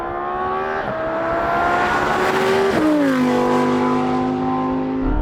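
A Lamborghini Huracan Performante engine roars loudly at close range during a drag race, climbing in pitch through the gears with audible shift drops and then holding a high, strained rev.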